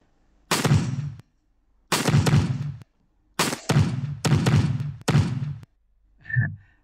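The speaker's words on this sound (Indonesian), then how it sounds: "Setiap mantul dia mengeluarkan suara dan ledakan lagi." Explosion effects from bullets bouncing in a Unity 3D game fire in six sharp bursts with short silent gaps, the last one softer and shorter.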